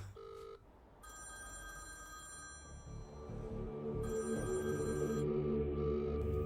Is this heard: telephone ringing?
yes